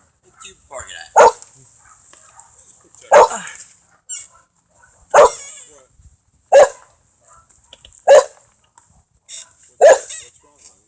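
Dog barking in sharp, loud single barks spaced roughly every one to two seconds, six in all, close by indoors, with quieter voices talking faintly between barks.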